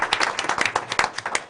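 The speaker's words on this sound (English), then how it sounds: "let's give her a round of applause." An audience at a school board of education meeting claps for a second-grade student winner, a short burst of scattered, uneven hand claps from a modest crowd, fairly close and without talk.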